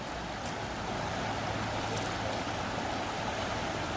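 Russian River current pushes hard against a stuck canoe, a dense, steady, close-up rush of flowing water that holds at one level throughout.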